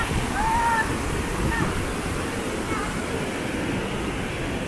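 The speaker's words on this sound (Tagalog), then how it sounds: "Lakas kasi ng agos ng tubig." Powerful rushing water at Aliwagwag Falls in Cateel, a steady broadband roar filling the whole stretch, with brief faint whistles or voices in the background.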